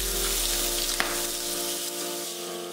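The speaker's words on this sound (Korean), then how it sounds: "베이컨 준비해서 중약불에 노릇하게 3장 구워서" Three strips of bacon frying in a pan over medium-low heat, a continuous close crackling sizzle with one brief tap near the middle, under a steady faint hum.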